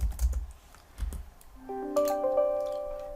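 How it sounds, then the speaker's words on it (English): Keyboard keys clacking in a short, irregular burst of typing while a spreadsheet course roster is filled in, moderately close; sustained electronic tones ring underneath in the second half. "I'm just going to type in group 1"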